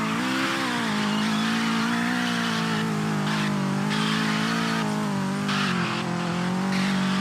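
A Toyota Celica engine drones steadily at a constant, loud level in a Roblox racing game, with slight shifts in pitch as it drives along.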